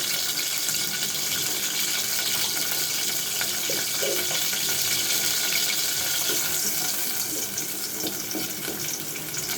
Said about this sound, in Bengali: রসুনটা একটু ভাজা হয়ে যাও।